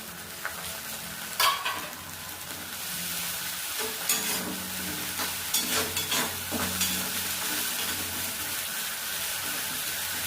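Chicken fries in a pan with onion, garlic and ginger paste, a soft steady sizzle punctuated by scraping stirs and clinks of a spatula, no voices.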